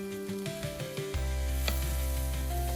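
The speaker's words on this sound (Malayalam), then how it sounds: "സെയിം പാനിൽ തന്നെ സോസേജും കൂടെ ഒന്ന് ചൂടാക്കി എടുക്കാമെന്ന് ഓർത്തു." Sausages heating in a frying pan, with a steady sizzle that swells partway through and stays loud and close to the end, over a constant low hum and a few scattered clicks.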